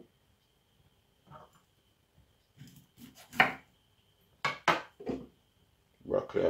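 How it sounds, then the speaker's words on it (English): Knife cuts broccoli and a pear on a chopping board while making a juice, scattered sharp taps and knocks of varying loudness, close by, with a faint voice underneath. "Then with the pear, you want to just cut off the top"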